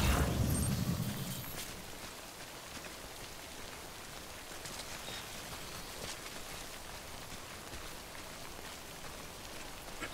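Steady rain in a post-apocalyptic survival video game, a constant even hiss of falling drops that eases after a louder opening second, with no talk over it.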